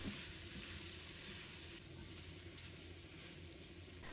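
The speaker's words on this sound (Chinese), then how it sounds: "这里需要我们开大火快速的翻炒，翻炒均匀，把它们炒至入味。" Tofu and red chili are stir-fried with celery and carrot over high heat, making a dense, continuous sizzle with faint stirring scrapes and no talking.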